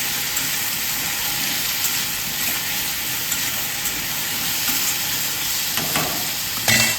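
Potatoes sizzling in a pan with salt added while they are stirred, a continuous close crackling hiss with occasional scraping clatters, louder near the end.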